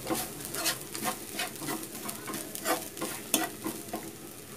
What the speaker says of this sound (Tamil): லைட்டாக வணக்கி விடுங்க.